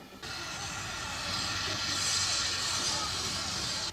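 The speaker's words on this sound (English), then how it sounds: "The train arrives, now complete with its carriages." A train rolls in with a loud, steady hiss and rumble that swells then holds, ending abruptly; no voices are heard.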